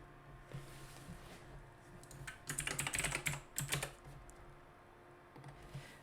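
Typing on a computer keyboard while editing CSS code, a steady run of close, quick key clicks that bursts into a denser, louder flurry midway before easing back to light, scattered taps.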